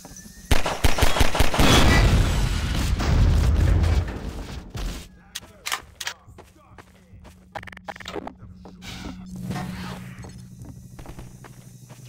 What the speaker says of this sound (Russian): Да, где-то стреляют.